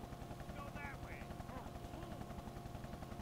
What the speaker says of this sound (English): that helicopter is still over us for some reason